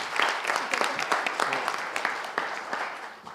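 Audience applause at a high school debate and eloquence competition, a dense, fairly close wash of clapping hands that carries on steadily and fades slightly at the end.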